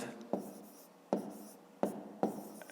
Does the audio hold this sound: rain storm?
no